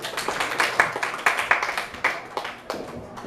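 Audience at a debate on violent video games claps in a moderate round of applause, individual hand claps distinct and uneven, swelling and thinning over a few seconds without voices.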